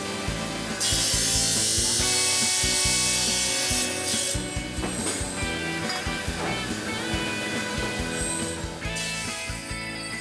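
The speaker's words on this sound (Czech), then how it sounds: "Šajba je horizontální kotoučová bruska." A horizontal disc grinder with a cast iron and silicon carbide wheel grinds glassware at a glassworks, fed with abrasive, giving a loud, continuous harsh rasping and scraping with shifting grinding noise throughout.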